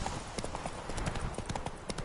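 Horse hooves galloping in The Witcher 3 video game, a quick steady clip-clop of hoofbeats heard up close and fairly quiet, running continuously for about two seconds.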